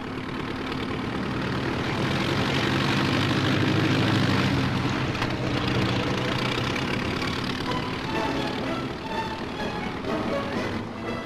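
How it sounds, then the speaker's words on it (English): A 250 horsepower de Havilland Tiger Moth biplane engine drones steadily at an aero club airfield, a loud, continuous propeller roar with no break throughout. "It takes pilots of this squadron some time to acclimatise themselves to these 250 horsepower Moths"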